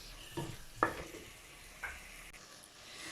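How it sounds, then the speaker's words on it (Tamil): Potatoes frying in a pan for a cauliflower potato stir-fry, with a few soft scrapes of stirring over a faint, steady sizzle; quiet and close, with no talking. "உருளைக்கிழங்கு நல்லா பாதி வெந்துடட்டும்"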